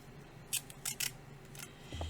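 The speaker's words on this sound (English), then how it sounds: "I'll put some donuts of masking tape on the back of my design." Masking tape is torn and pressed onto the back of a screen-printing design, giving a few short, crisp ripping bursts close up against a quiet room.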